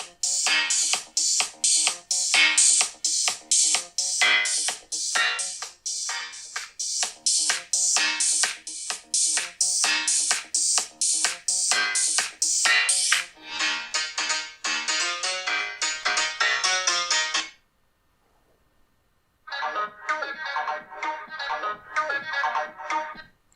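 Copyright-free music plays from an iPhone SE 2020's speakers, a bright plucked tune of rapid rhythmic notes that drops out briefly near the end before resuming, loud and clear with no talking.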